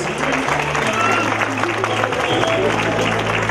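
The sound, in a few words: applause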